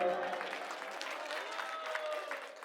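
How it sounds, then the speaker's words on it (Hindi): Applause and clapping from a crowd at a political speech in Janakpuri, Delhi, a steady broad wash of hands that holds for a few seconds. "इसके लिए ताली बजा दो एक बार।"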